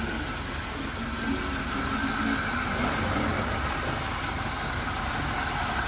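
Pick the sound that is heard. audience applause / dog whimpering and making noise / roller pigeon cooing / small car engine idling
small car engine idling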